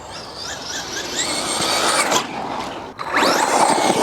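A Traxxas Slash 2WD RC car runs off-road on dirt, its small electric motor whining in high pitched rising and falling sweeps with gritty crunching beneath, briefly cutting out before revving sharply again, close and loud.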